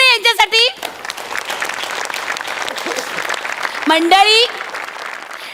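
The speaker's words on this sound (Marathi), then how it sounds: "जोरदार टाळ्या आपल्या समीर चौगुले यांच्यासाठी" A live audience at a Marathi comedy show gives loud, sustained applause for comedian Sameer Chougule. A host's voice speaks briefly at the start and again near the end over the clapping.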